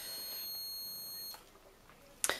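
A steady high-pitched multimeter continuity beep holds for over a second and then cuts off, followed by quiet and a brief sharp click near the end.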